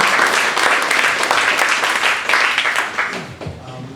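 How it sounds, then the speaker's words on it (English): Audience applause at a data visualization meetup presentation, dense sustained clapping from a room of people filling the whole stretch, fading slightly near the end. "One more round of applause."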